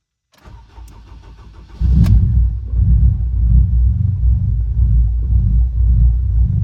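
A car engine on a newly designed fuel system cranks briefly, then fires and settles into a loud, close, rough rumbling idle that sounds uneven, with no talk over it.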